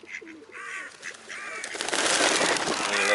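Swans, pigeons and seagulls call at a bird park, with several honking, nasal calls early on giving way to a dense, loud flurry of squawks and flapping noise.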